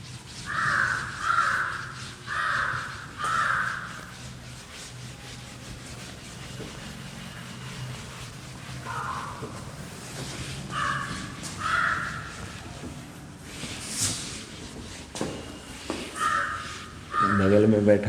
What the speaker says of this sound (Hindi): बगल में बैठा कौवा भी लगता है मेरी बात सुन सुन लग के बोल रहा है